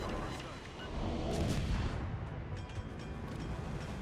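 Guns firing aboard the Tashkent '39 destroyer in World of Warships, a heavy rumbling boom swelling amid continuous low battle noise, with speech-like murmurs across the clip.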